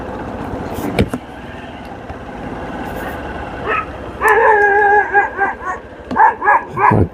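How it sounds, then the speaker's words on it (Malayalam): Dogs in a small village near Coimbatore with few houses: a quiet stretch with a passing vehicle rumble, then several loud, close barks in quick bursts over the last few seconds. "പട്ടിയുണ്ട് ഇവിടെയൊക്കെ."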